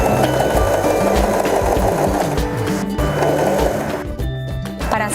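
A Janome 3016 sewing machine stitches fabric, producing a continuous close mechanical whirr with rapid needle chatter, steady and loud, with small shifts in speed and a brief slowdown near the end.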